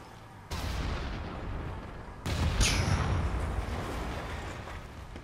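Explosion in inFAMOUS Second Son, a loud booming blast that jumps up midway and rumbles on under a sustained roar of debris and noise.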